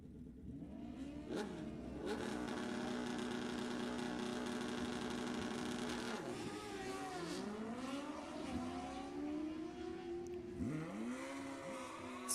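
Suzuki Gixxer sportbikes at bracket drag racing on Sacramento Raceway launch hard off the line. High-revving engines scream and shift repeatedly, sweeping up and down in pitch, loud and continuous for the whole stretch.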